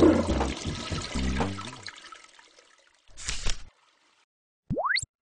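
A Japanese toilet flushes with a gurgling rush of water that trickles away, followed by a short burst of water and a brief rising whistle-like sweep, heard close in a quiet room.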